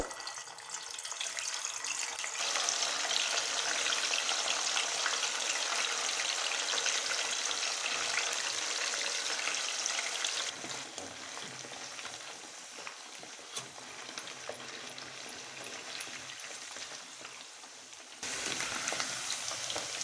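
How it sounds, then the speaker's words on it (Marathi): Cubes of paneer fry in a pan over high flame, giving a steady, hissing sizzle with occasional stirring scrapes; the sound shifts in level partway through and continues alone. "तर आता आपण पनीर तळून घेऊया."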